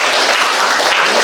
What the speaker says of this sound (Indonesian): Ya, kasih tepuk tangan anak-anak.